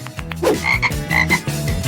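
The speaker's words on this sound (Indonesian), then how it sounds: "Seekor katak." A frog croaks in a quick, rhythmic series of short, close, throaty pulses that repeat steadily for about two seconds.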